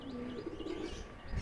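Pigeons cooing in a home loft, a low, soft burbling coo that rolls steadily through the moment with faint background noise.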